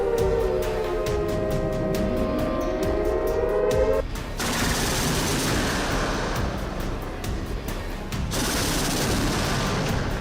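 Chinese army artillery fires during a coastal drill, dense loud rumbling volleys and blasts overlapping into continuous booming, with a faint rising whine early on.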